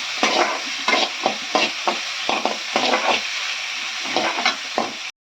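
Onions and tomatoes sauté in a pan for a Tamil vengaya thakali chutney, heard as a sizzle under rhythmic scraping strokes of a spoon, roughly two per second, close and clear, stopping abruptly at the end.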